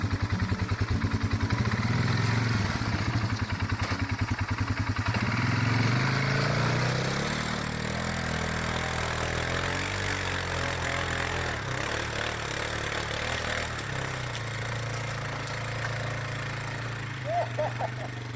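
A dirt motorcycle engine labours loudly up a snowy hill, revving hard with a throbbing pulse early on, then settling into a steadier, rougher drone with clattering toward the end.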